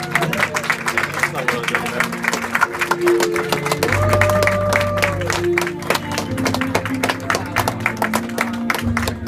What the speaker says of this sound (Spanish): Fuerte, fuerte los aplausos, que se sienta.